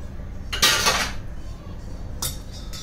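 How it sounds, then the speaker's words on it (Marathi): A cooking pan being rinsed with hot water in a home kitchen while making Malvani mutton rassa: two bursts of splashing, clattering metal, the first longer and louder, over a quiet background. "ते जरा गरम पाण्याने धुवून घेते"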